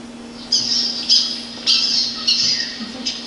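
An American black duck calls in a series of harsh, squawking notes at roughly half-second intervals, loud and close, over a low steady hum.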